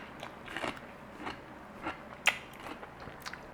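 Biting into crunchy homemade pickled red cabbage: a series of close, crisp crunches and chewing snaps in an irregular rhythm, one sharp loud crunch standing out, with no talking.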